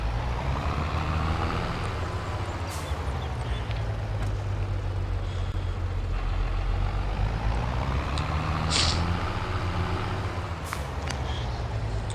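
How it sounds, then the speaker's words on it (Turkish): A Massey Ferguson tractor engine in the Farming Simulator 2023 video game drones steadily and loudly with a low rumble, with a few brief higher clicks and hisses over it and no talk. "Şu traktör hoşuma gitti Massey Ferguson."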